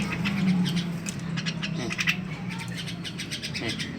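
Javan myna (jalak kebo) giving short, harsh squawking calls in scattered bursts over a low steady hum, fairly faint and at moderate distance.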